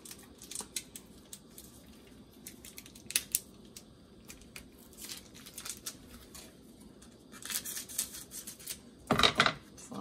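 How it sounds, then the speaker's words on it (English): Quiet, intermittent snipping and rustling of kitchen shears, with a sharper cluster of cuts near the end. "using some scissors, kitchen shears as they call them technically"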